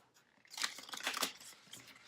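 A deck of tarot cards is shuffled by hand close up, giving soft, quiet riffles and papery slaps in short bursts, with no voices.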